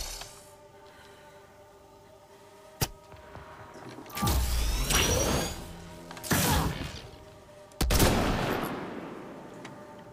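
Several sharp gunshots crack out in the video game Mass Effect: Andromeda over a quiet hum, some followed by longer roaring bursts and echoing tails, loud and close.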